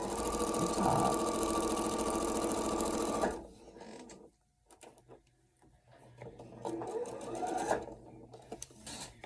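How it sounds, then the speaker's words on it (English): A home sewing machine stitches straight across the top of a fabric piece in a loud, steady run of rapid needle strokes for about three seconds. It stops, followed by quieter handling noises and a brief short burst of stitching. "my sewing machine is right here. So I'm going to quick sew them."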